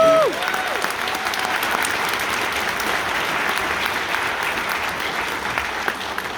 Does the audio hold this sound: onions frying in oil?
no